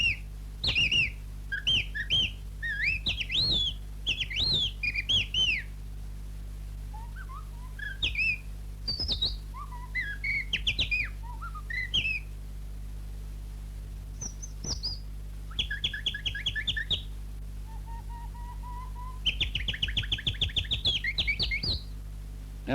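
A man whistles imitations of thrush, blackbird and nightingale song in the living room of his house, a run of clear, varied chirps, trills and warbles in separate bursts with short pauses, close and alone over a faint steady hum.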